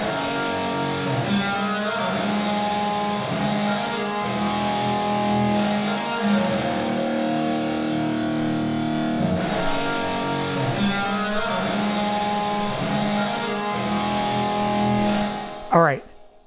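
Guitar playing through a 100% wet reverb with no dry signal, washed so every note smears into a thick, unbroken haze, steady and fairly loud throughout.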